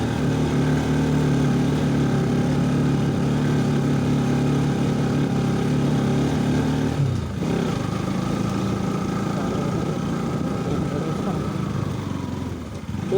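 Motorbike ride on a rough road from Sundarijal toward Okhreni, with a steady mid-pitched engine drone running throughout, a brief dip near the middle before the engine hum resumes, close and continuous.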